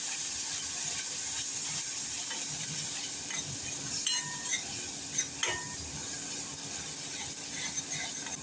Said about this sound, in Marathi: एक टोमॅटोची प्युरी घालूया छान परतून घेऊया